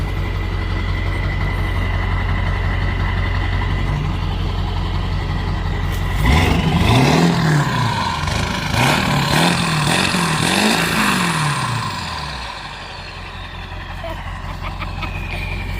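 Ford 7.3 Powerstroke diesel truck engine with low oil idling close by, then revving in a run of rising and falling pulls before settling back to a steady rumble.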